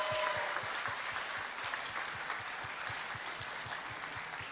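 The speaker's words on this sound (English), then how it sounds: "Ladies and gentlemen, let's have a round of applause for them all." An audience applauds chefs at a shellfish festival cooking challenge, steady dense clapping from a crowd that holds throughout, with a regular low thumping beat running underneath.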